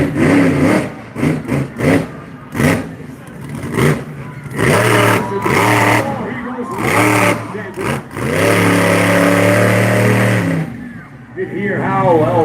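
A monster truck engine roars at a fair's monster truck skills showcase, loud and close with repeated revving surges and sustained throaty rumbling, over crowd noise and an announcer's voice.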